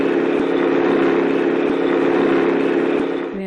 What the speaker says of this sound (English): Noise of the engine of a vehicle is the example of sound of low pitch.